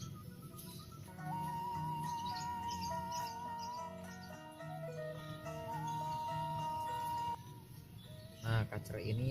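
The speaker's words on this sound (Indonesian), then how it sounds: "kacer ini saya beri nama Doger pemirsa" A caged oriental magpie-robin (kacer) sings a steady run of clear, sustained whistled notes and chirps close up, with a brief louder burst near the end.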